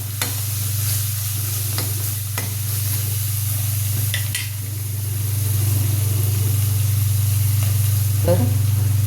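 Fenugreek leaves stir-fried in a pan with salt, a soft sizzle with occasional spatula scrapes and taps over a steady low hum.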